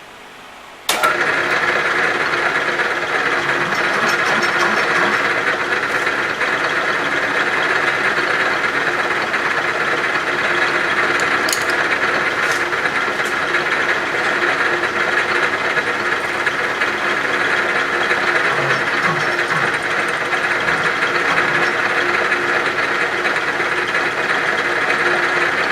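A Bridgeport milling machine squaring up setup blocks starts after a brief quiet moment, then runs with a loud, steady mechanical whine and hum for the rest of the stretch, with occasional faint ticks and no talking.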